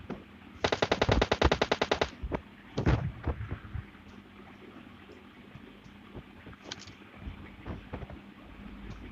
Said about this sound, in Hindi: K98 का शॉट लगाने की कोशिश करता हूँ, पर लगता नहीं।